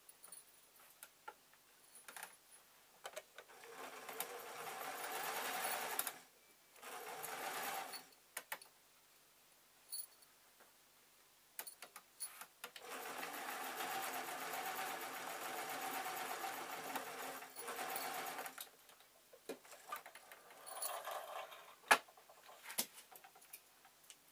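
A sewing machine runs in several bursts of rapid stitching, separated by quiet pauses filled with small clicks and handling noises.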